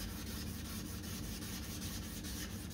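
Steady, even abrasive rubbing of sandpaper across a weathered, oxidised plastic car headlight lens during restoration, continuous and close with no talk.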